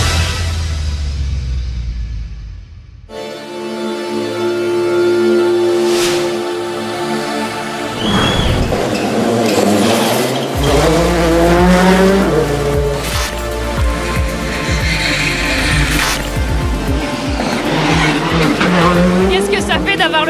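A rally car on a village stage roars past at speed, engine revving and rising through gears with tire squeal and skidding, loud and close throughout, while voices talk over the noise.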